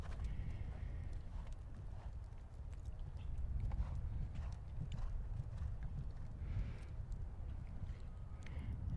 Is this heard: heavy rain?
no